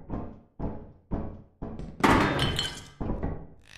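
A homemade flashbang grenade in the game Lethal Company: a run of hollow, evenly spaced thunks and knocks, then a sharp, glassy burst that rings briefly before the knocking resumes. No speech.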